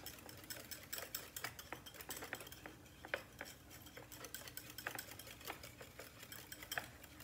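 A wire whisk beats a mixture in a bowl until it thickens, giving rapid, steady metallic clicks and scrapes that are faint but close, with no voices.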